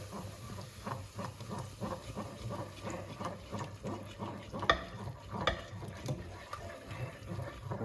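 A spoon stirs a clumpy sauce in a pan for Ligurian pasta, making soft, rhythmic, repeated scraping swirls over a faint bubbling sizzle, close and fairly quiet.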